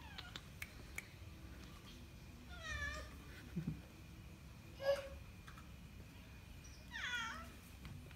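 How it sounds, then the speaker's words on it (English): A cat gives several soft, drawn-out meows spaced a couple of seconds apart, fairly close but quiet over a low background hum. "Meow."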